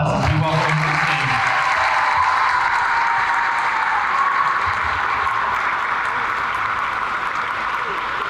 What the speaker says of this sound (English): Let's give him a warm round of applause as we welcome him to the stage.